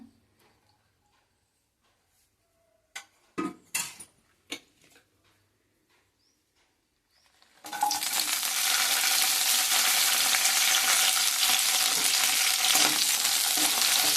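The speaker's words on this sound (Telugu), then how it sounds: "ఆయిల్ వేసుకుందాం అండి. పచ్చిమిరపకాయలు ఎండుమిరపకాయలు వేయించుకుందాం." Green and dry red chillies dropped into hot oil: a few light clinks and taps over near silence, then a sudden loud, dense sizzle that holds steady to the end.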